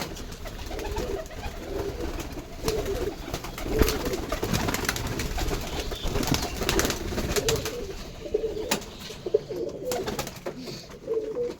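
High-flier pigeons cooing in a loft, a steady chorus of soft, repeated low coos from several birds, with scattered flutters and clatters underneath.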